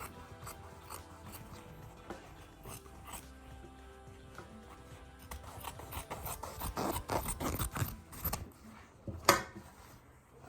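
Scissors work through doubled fabric for a face mask, a series of close rasping snips and rubs that grow louder and busier toward the end.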